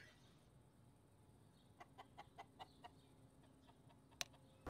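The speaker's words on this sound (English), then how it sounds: "Chicken." A video game chicken clucks in a quick run of about six short, evenly spaced calls at moderate distance, followed by a sharp click and a louder burst at the end, with no talking.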